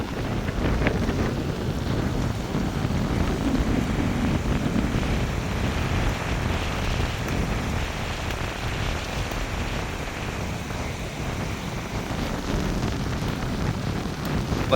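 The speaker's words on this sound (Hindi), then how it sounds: "अभी पानी आ रहा है, इधर टकरा रहा है," A fast-flowing river rushes against a stone embankment with a steady, loud, broadband roar of water. Heavy wind buffeting the microphone runs through the whole stretch.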